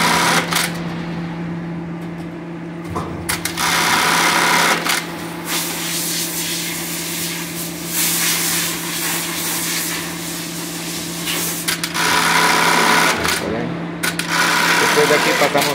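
An industrial sewing machine stitches a reinforcing bartack on a cap strap in a cap-finishing workshop, firing in rapid whirring bursts that start and stop, while someone speaks Spanish over it.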